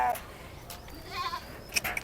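Sheep at a livestock sale pen ahead of the Eid sacrifice, with one or two short bleats near the end over a low murmur of background voices and farm noise.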